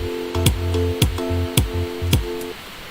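Synth chords pulse with a punchy kick drum hitting roughly every half second and a deep bass line underneath, in a steady electronic groove that thins out near the end.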